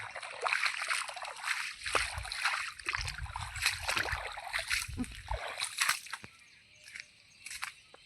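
Rainwater flowing and splashing around people's feet, with uneven sloshing bursts and trickles at close range. People talk over the water throughout.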